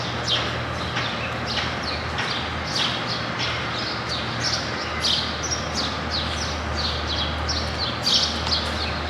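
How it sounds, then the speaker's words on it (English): Small birds chirp and tweet repeatedly at a moderate distance over a constant low hum of city background noise. "there's like the sounds of the city and the birds in the background"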